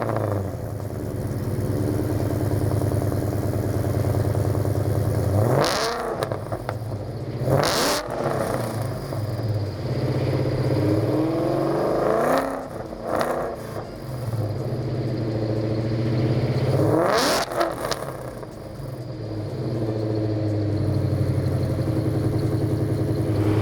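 A 1000HP Coyote-swapped 2003 Mustang Cobra with a 3-inch stainless X-pipe and Jones mufflers idles with a deep lumpy burble, broken by three sharp loud revs that rise and fall back to idle.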